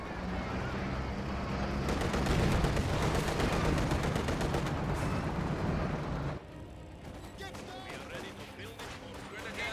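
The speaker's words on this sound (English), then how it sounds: "MG-34 firing away." An MG-34 machine gun fires in a Company of Heroes 2 battle: loud, sustained rapid bursts packed with other combat noise, with a commentator talking over them, before the firing drops away sharply after about six seconds.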